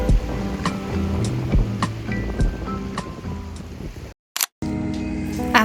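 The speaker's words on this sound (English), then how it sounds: "We spent some time simply walking along the shoreline, taking in the salty air and listening to the waves." Ocean waves washing onto the beach at Kamakura, Japan, a steady surf wash mixed with wind and scattered clicks, briefly cutting out near the end, with no talking.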